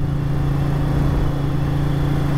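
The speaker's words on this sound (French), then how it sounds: "Donc là, vous entendez le bruit de l'échappement" Exhaust of a 1994 Ducati 900 Supersport fitted with Boss carbon silencers, a steady low throbbing drone held at an even pace throughout, close and fairly loud with no talking.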